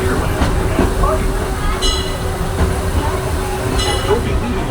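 The Disneyland Railroad train rolls along its track in Disneyland Park with a loud, steady rumble, rhythmic rail clicks and a few brief bright squeals.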